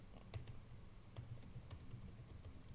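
Quiet, close computer keyboard typing as a web page title is entered, irregular soft key clicks in short bursts over faint background hum.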